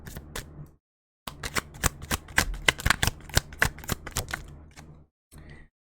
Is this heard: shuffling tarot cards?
yes